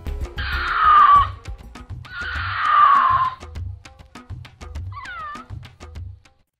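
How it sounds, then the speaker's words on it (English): Two long, harsh yowling cougar mating-season screams ring out clearly, with a shorter wavering cry near the end over a low rhythmic thumping background. "cougars are relatively quiet animals, but they do not make the most pleasant sounds on the ear during the mating season"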